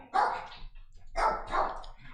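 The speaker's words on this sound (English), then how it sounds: "The attack dogs are going wild." Several dogs bark excitedly indoors in short bursts, one volley, a pause, then two more rapid barks, moderately close and loud, with no talking over them.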